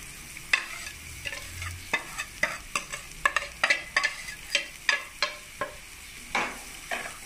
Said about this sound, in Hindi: हल्का सा आपने इनको भूनना है, मसाले जलने नहीं चाहिए।